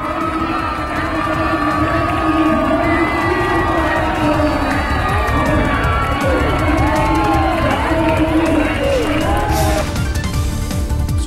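A large crowd cheers and shouts steadily around a wrestling bout in an akhara where yoga guru Baba Ramdev grapples with wrestling champion Sushil Kumar, the roar loud and continuous throughout.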